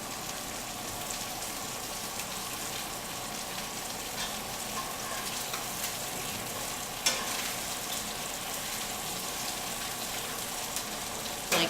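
A sous-vide pork chop sears in a hot pan with a steady, dense sizzle and crackle throughout, close and even, with one sharper clack partway through.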